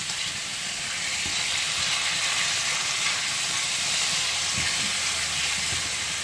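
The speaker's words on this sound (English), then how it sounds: "So I'm gonna fry until it becomes brown" Food frying in a pan until it browns gives a steady, loud sizzling hiss that stays even throughout, with faint stirring knocks underneath and no talking.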